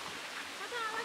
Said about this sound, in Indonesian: Waduh, hujan.